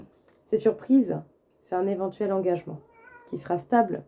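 A cat meows a few times, faint and brief, beneath steady French speech from a woman.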